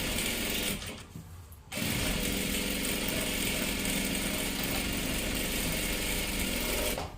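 A sewing machine runs steadily close by, stitching right along the edge of a salwar. It breaks off briefly near the start, then hums and clatters on without a pause to the end.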